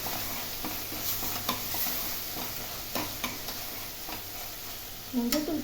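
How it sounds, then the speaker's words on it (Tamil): Lentils and spices sautéed in hot oil for a Tamil paruppu sadham, with a steady soft sizzle and repeated spoon scrapes and stirs against the pan, plus a louder clatter near the end. "நம்ம பருப்பு போட்டு அதையும் சேர்த்து வதக்கிக்கலாம்"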